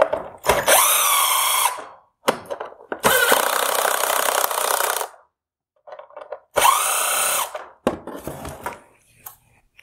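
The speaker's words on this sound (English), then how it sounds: "Next, I'm going to turn both of these headlight adjusting bolts all the way to the left." A powered tool turns the headlight adjusting bolts on a 2016-2019 Honda Pilot OEM headlight. It gives loud, close whirring bursts of a few seconds each, separated by short clicks and brief pauses.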